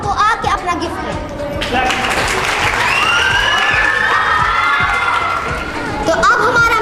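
A crowd at an Eid-ul-Adha mehndi contest applauds and cheers a winner, with loud clapping, whoops and children's shouts lasting several seconds while a voice speaks over it.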